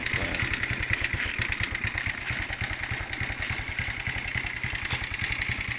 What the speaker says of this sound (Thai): อาขี่ซาเล้ง